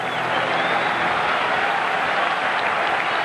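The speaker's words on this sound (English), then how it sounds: "Crowd offers encouragement." A baseball stadium crowd at a 1995 playoff game between the Reds and Dodgers applauds and cheers steadily and loudly for a few seconds, a dense wash of clapping with no break.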